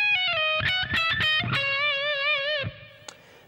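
On electric guitar, a fast legato lick with pull-offs from a song's solo runs quickly downward, then settles into a held, vibrato-wavering note that fades out.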